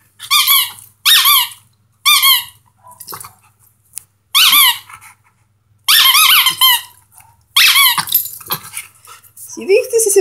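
A dog's squeaky toy shrieks loudly and repeatedly in close, bursty squeaks, some in rapid pairs, with a dog's vocal sounds and brief human talk between the squeals.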